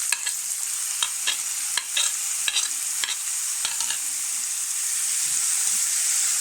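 Onions sautéing with garlic in hot oil in a pan, a steady loud sizzle with a spoon scraping and stirring at irregular intervals, and no voices.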